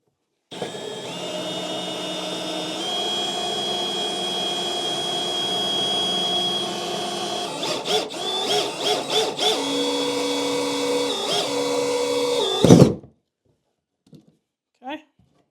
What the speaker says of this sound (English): I already got it lined up to where it's going to sit and started to drill, so I'm just going to finish this hole off.